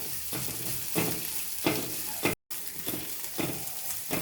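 Ajwain and fenugreek seeds dry-roast in a pan over medium heat for a Mangalore-style chicken curry masala, with a steady crackling hiss broken by regular scraping stir strokes and one brief dropout.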